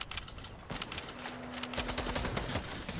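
Gunfire crackles in a Fortnite match, quick bursts of sharp shots with a steady tone running briefly underneath, moderately loud and close.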